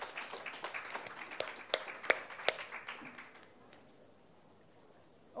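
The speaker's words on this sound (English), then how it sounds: "Please give a big applause to all the speakers" Applause and scattered clapping from an audience after speakers at a COP 25 pavilion session, a modest patter of claps with a few sharp louder hits that fades out after about three seconds into quiet room tone.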